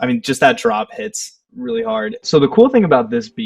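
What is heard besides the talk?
No distinct noise like a dog, phone or traffic.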